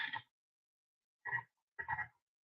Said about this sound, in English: That sound was my real notification.